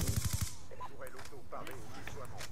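A deployed turret in Black Ops 2 on the Magma map opens with a rapid burst of loud, close automatic fire, then game sounds and a chattering voice carry on underneath.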